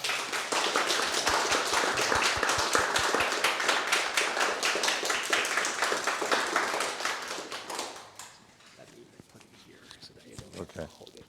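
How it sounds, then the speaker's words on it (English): A lecture audience at the Nolanville Smart Museum applauds Dr. Michael Goodchild: dense, loud clapping for about eight seconds that then stops abruptly, leaving a quieter room with scattered taps and some speech. "please join me and give a round of applause to Dr."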